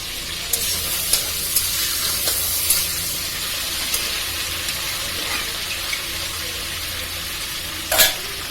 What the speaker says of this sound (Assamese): বইল কৰা দালিটো দি দিছোঁ।